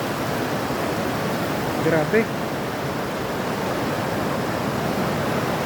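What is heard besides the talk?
Bunsuran Falls waterfall, strong rushing water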